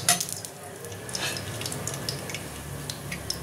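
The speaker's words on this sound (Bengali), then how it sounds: "এবার আমি এর মধ্যে আলুগুলো ভেজে নেব।" Potatoes fry in hot oil in a pan with a steady, soft sizzle and crackle, joined by occasional light clicks and scrapes.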